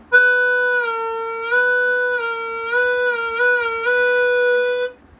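Harmonica notes played alone, with several pitches sliding down and back up as the player bends them; clear and close, in short phrases.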